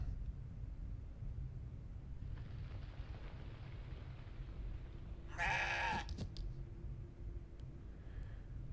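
A goat bleats once, a short bright cry over a low rumbling ambience, during a boss encounter in the action role-playing game CrossCode; a few faint clicks follow.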